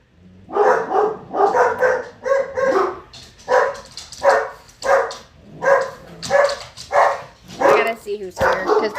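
Dogs barking indoors at home, repeated loud barks and yips in a steady run of bursts close by, with a person talking over them.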